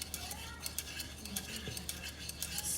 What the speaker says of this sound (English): So I'm going to stay here and keep stirring.